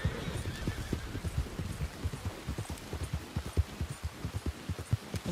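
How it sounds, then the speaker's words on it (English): Wild horses in the video game Red Dead Redemption 2 move nearby, with a steady, rhythmic clip-clop of hooves and a whinny among the footfalls, over a soft hiss like light rain. "More wild horses."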